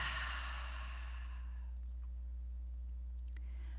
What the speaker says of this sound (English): So as I take a deep breath,